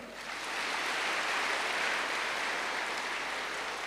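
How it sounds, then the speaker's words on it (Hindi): Sustained applause from an audience at a spiritual gathering, a dense even wash of many hands clapping that swells in quickly and holds steady. "बजाओ ताली।"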